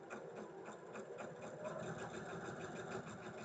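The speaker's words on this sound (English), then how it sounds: "I'm just stitching right on the line." A sewing machine runs steadily as it stitches together the pieces of a quilt block, a close and continuous mechanical whir with a rapid needle rhythm and no pauses.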